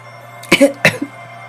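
A storyteller voices a small imitation cough during a children's bedtime tale: two or three short, close bursts of throat sound over a quiet background.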